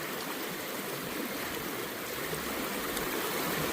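A rushing outdoor stream during gold panning, a loud, steady broadband roar of flowing water that runs unbroken and close throughout, with no voices.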